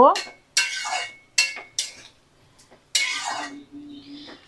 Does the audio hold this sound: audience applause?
no